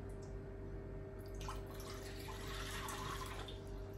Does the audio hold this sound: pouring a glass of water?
yes